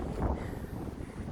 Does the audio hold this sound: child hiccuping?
no